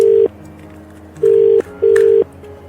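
A telephone used to call a cable TV repairman, giving three steady, single-pitched electronic beeps, one short and two longer, close and clear with no one talking.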